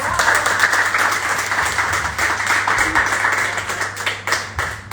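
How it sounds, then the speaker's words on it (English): Audience applause at a live event after a guest joins by phone, steady dense clapping from a crowd in a room, continuous and fairly loud throughout with no talk over it. "Can everyone give Ali a round of applause?"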